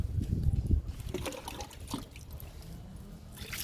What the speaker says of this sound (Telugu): వాటర్ ఇచ్చినా కానీ కానీ కొంచెమే ఇవ్వండి వాటర్ని